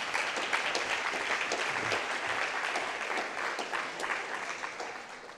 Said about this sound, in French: je pense qu'on peut les applaudir parce qu'ils ont bien fait.